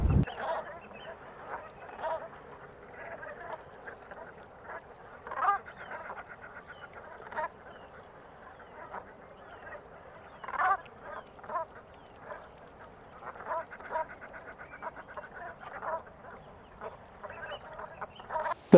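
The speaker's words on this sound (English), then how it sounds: "the sounds of Brent geese flying into roost at sunset" A flock of Brent geese flying into roost at sunset over marshes at Shellness, England calls continuously, a dense chatter of soft honks and croaks rising and falling, some calls close and others distant.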